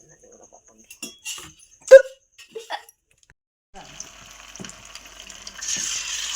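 Sea fish fry in a generous amount of oil. A few scattered clicks and clatters come first, then a faint, steady sizzling hiss rises and grows a little louder toward the end.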